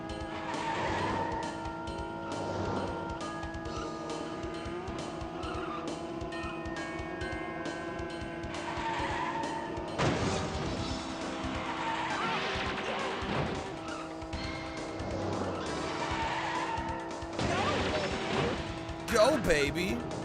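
Cars race in the Cruis'n USA video game, with steady engine drone, tire squeals and occasional crash hits under ongoing game music and talking voices.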